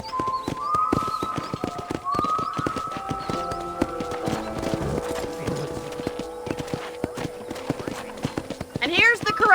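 Horse hooves clip-clop in the Red Dead Redemption video game at a ranch corral, a steady rhythmic patter mixed with music and game sounds, with a brief whinny near the end.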